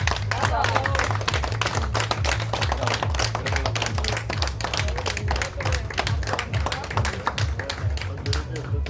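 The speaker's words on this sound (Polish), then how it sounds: "gorące brawa dla dwóch najwierniejszych kibiców miejsca pierwszego" Steady, rhythmic clapping from an audience at a prize-giving ceremony after a tournament, with a speaker's voice running over the applause throughout.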